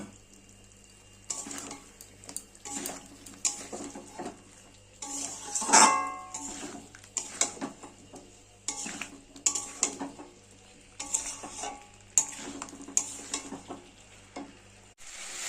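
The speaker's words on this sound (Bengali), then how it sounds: "অল্প একটুখানি জল দিয়ে মশলাটাকে কষে নেব" Spice paste of ginger-garlic, chili and turmeric powder is stirred with a little water in a pan for a fish curry, giving intermittent scraping strokes and soft wet sizzling, close and moderately quiet with pauses between bursts.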